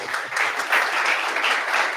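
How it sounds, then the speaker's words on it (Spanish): Steady audience applause at a conference lecture on the entrepreneur as a producer of liberty; dense, even clapping fills the full two seconds at moderate loudness with no pause. "Estaban aplaudiendo."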